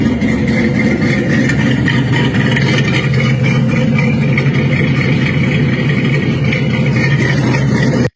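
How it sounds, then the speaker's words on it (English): A supercharged 2002 Ford Mustang idles steadily up close, its exhaust throbbing with a lumpy, choppy rhythm over a low rumble, with supercharger whine up front, continuous for the whole stretch and no talking. "You can hear the nice exhaust and the chop in the rear."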